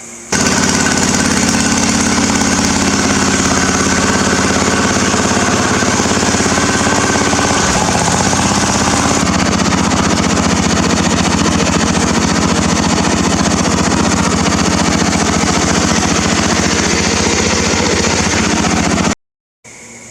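A mud mower engine runs hard on a test drive, a loud, steady, rattling roar close to the mic that holds for most of the time before cutting out briefly near the end.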